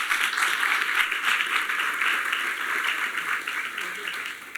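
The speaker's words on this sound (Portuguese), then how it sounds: "Uma salva de palmas, gente." A crowd at a Brazilian church-style gathering applauds, a dense continuous wash of clapping holding steady at fairly high volume with a faint murmur of voices mixed in.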